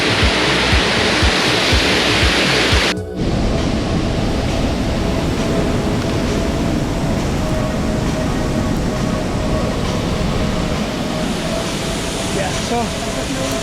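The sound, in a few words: waterfall in Bali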